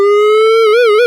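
The Bebot synth app plays a sustained, buzzy tone with overdrive distortion adding grit, holding steady before wavering into a gentle vibrato, loud and alone.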